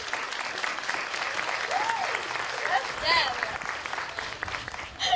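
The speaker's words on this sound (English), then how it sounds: "Let's give her a big round of applause." Applause from a protest crowd at a Day of Decision rally in Houston, a steady wash of clapping lasting several seconds with voices mixed in.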